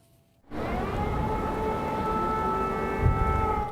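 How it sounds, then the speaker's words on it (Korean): After a brief quiet moment, an air raid siren in wartime Ukraine starts and holds a sustained wailing tone, loud and steady over rumbling background noise. "공습 사이렌에 발걸음을 재촉하는 사람들."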